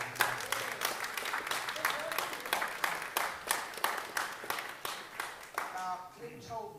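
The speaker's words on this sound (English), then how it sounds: "I would like you to give a round of applause to Mick Morris" A pub or club audience at a tribute gig for Glyn Walden gives a round of applause for Mick Morris. The clapping is loud, close and rhythmic, sometimes in unison, and it fades out under a voice near the end.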